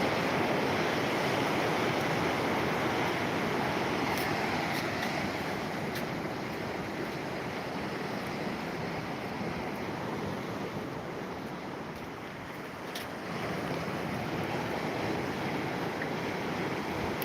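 Gentle sea waves washing in against coastal rocks on a calm day along the shore near Withernsea, a steady soft broadband surge with slight swells and light wind, no voices.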